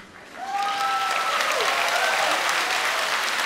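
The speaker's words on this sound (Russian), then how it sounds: "а мы продолжаем с помощью ваших аплодисментов вызывать зависть у Эстонии и Литвы" Dense audience applause at the 2014 KVN 'Golosyashchiy KiViN' show in Jurmala swells after a quiet start and holds steady, loud and continuous, with whistles or voices rising above the clapping.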